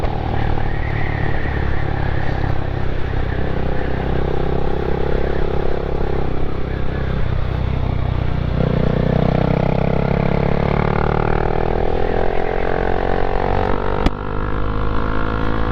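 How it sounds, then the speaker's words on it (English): A Triumph motorcycle with a standard exhaust runs steadily while being ridden, its engine a loud continuous drone with a rising pitch sweep partway through, heard up close over constant wind rush. "I don't know if you can hear my dad's bike over this one."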